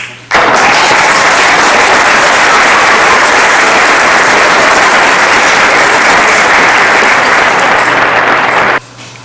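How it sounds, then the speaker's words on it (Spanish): Audience applause at a book launch event, a dense, steady wash of many hands clapping that starts abruptly, holds loud and even for about eight seconds, then cuts off. "un aplauso para su larga vida"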